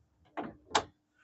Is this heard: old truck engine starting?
no